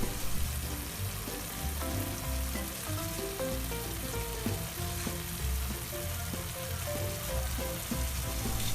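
Beef bulgogi fries in a pan with a dense, crackling sizzle and bursts of popping, loud and close, continuing steadily throughout with stirring scrapes mixed in.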